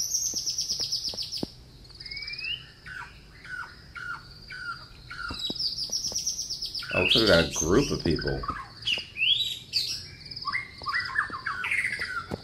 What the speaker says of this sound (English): Oh, these birds are annoying as hell.